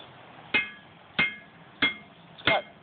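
Four evenly spaced, ringing hammer strikes on the face of a 1900 Fisher anvil, each a sharp metallic clang with a brief decaying ring, close and clear with no talking.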